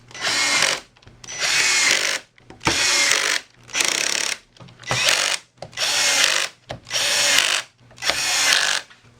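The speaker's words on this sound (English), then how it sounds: "so now we can screw the thing on" A power drill drives screws into a folding table in eight loud, close bursts of whirring, each about a second long, separated by short pauses.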